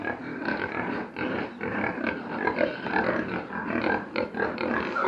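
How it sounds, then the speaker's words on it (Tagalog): A group of piglets on a farm, grunting and snuffling continuously and close by in a dense, overlapping chorus of low grunts and soft squeals. "At ito may mga biik."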